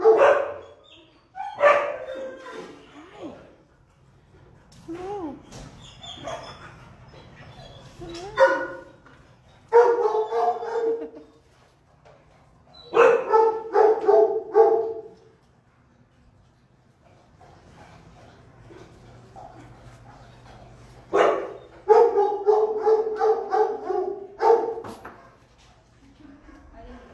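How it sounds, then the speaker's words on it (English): Dogs at an animal shelter barking repeatedly in loud, echoing bursts with short gaps between them, some yips mixed in, and people talking between and over the barks. "We have a lot of really great adult dogs here right now."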